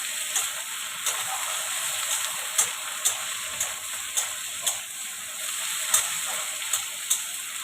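Tomato and green chillies fry in a pan for egg curry, giving a steady close sizzle with regular soft ticks and pops roughly every half second.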